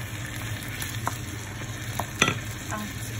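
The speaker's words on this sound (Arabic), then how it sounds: "ونحركوا" Tomatoes being stirred into a seafood spaghetti sauce in a pan: a steady sizzle with a few sharp scraping strokes of the spoon, close and alone.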